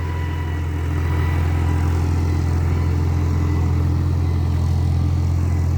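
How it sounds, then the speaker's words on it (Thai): A farm tractor engine runs steadily nearby, a loud, continuous low drone with a throbbing mechanical beat that swells slightly after the first second and then holds constant. "รถไถต้องพยายามรูปเรื่อยๆครับ"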